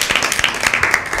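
Brief burst of applause for a winning team at a Lent Bible quiz, many hands clapping in a quick irregular patter, close and lively.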